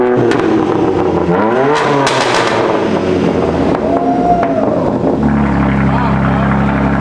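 A BMW G82 M4 with an AWE track exhaust revs hard in repeated loud, rising and falling bursts close by, then settles into a lower drone, with voices talking between revs.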